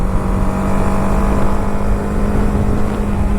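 A BMW G 310 RR motorcycle engine pulling steadily in fifth gear, a loud, close, continuous drone with a strong low hum and a rough, throbbing texture.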